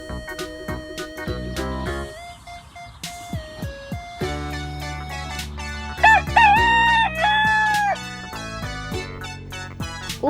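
A rooster crows midway through, its wavering call rising over steady background music with plucked, tuneful notes.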